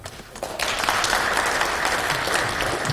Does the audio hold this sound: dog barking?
no